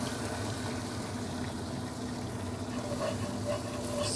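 Ground beef browning in a pan for chili, seasoned with Roadhouse seasoning, giving a steady dense sizzle and crackle that runs unbroken throughout with no talking.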